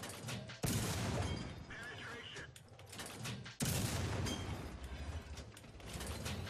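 Tank cannon shots in World of Tanks while driving a T37, two loud sudden blasts with mechanical rattling and reload clanks between them, over steady engine rumble.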